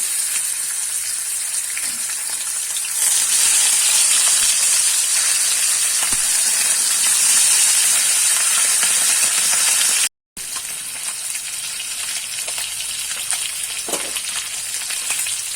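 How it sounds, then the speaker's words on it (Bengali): Sarputi fish pieces fry in hot oil one after another, giving a steady, loud broadband sizzle with a brief cut near the end and occasional pops. "এবারে আমি মাছটাকে একে একে ভেজে নেব।"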